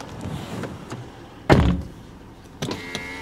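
An Acura ZDX car door is shut with one solid thunk at close range, preceded by quieter handling sounds and followed by a softer click and rustle, with no talking.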